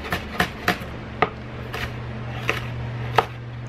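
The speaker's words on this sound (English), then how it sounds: "so just gonna cut this up" A kitchen knife chops food on a cutting board while making taquitos, sharp separate thunks in an uneven rhythm, close and clear over a low background hum.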